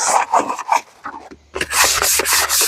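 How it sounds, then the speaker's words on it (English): A scrubbing brush rasps in short, rough strokes against plastic seed trays in water, close and loud, with a brief pause before a burst of harder scrubbing. "then we take the scrubbing brush and we just give it"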